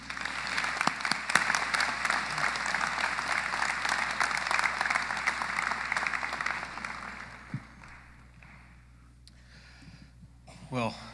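Audience at a Zane State College commencement ceremony applauds steadily as JD Vance is welcomed to the lectern, a sustained wash of clapping that fades out near the end.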